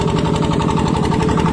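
An engine runs in a farm field where fodder crops and vegetables are grown, a close, loud, steady rhythmic chugging with a fast regular pulse and no pauses.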